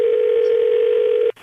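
A telephone dial tone hums steadily and loudly for just over a second before cutting off abruptly.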